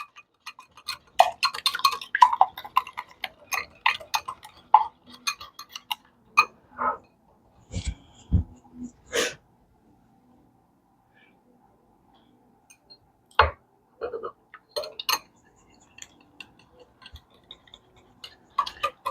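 A whisk clicks and taps against a bowl while beating egg, butter, milk and vanilla into blueberry muffin batter, in quiet, uneven bursts of rapid ticking with short pauses between.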